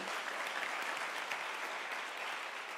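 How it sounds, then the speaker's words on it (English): Applause fills a university graduation ceremony, a steady crowd of hands clapping evenly and continuously for a few seconds without any speech. "Can I request a round of applause for those words of wisdom?"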